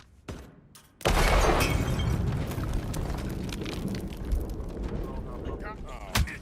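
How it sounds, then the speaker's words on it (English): After a brief quiet moment, a sudden loud blast in the video game Hitman, set in Dubai, erupts into a long rumbling, crackling roar with scattered debris-like bursts. "Someone is setting up explosions in my vicinity."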